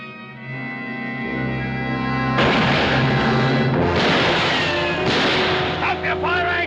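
Gunfire in a western shootout against Paiute attackers: loud, sharp blasts and crashing bursts ring out close by, layered over a dense, steady backdrop of music and commotion.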